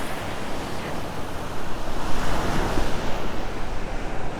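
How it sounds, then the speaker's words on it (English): Moderate surf breaking on a sandy Sanibel Island beach during a shelling walk, a steady broad rushing roar that swells louder midway, with wind buffeting the microphone and no voices. "So as you can see, it's a pretty harsh surf"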